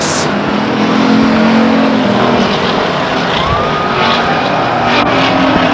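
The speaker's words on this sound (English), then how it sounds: "Here now the white flag for our leader Aaron Schenkel in the 47 car." Race cars at Stockton 99 Speedway roar past in a loud, continuous wash of engine noise, with whining, rising and falling passes layered over the constant din of the pack.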